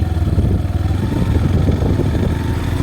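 Motorcycles run along a road near the entrance to Hogenakkal Falls, their engines giving a close, steady, rumbling drone with a faint clatter mixed in, and no one speaks.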